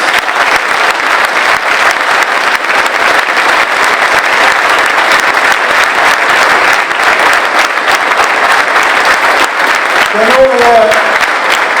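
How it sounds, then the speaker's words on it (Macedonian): A large political rally crowd gives loud, sustained applause for coalition candidates in Macedonia, steady dense clapping filling the whole stretch with cheering and a few whistles near the end. "Затоа ве повикувам да ги поддржиме со еден громогласен аплауз."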